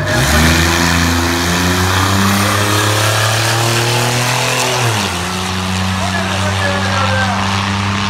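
A supercharged V6 Buick Riviera on front Hoosier slicks races a drag strip, its engine revving loud and close, climbing in pitch before an upshift drops the note and the pull continues.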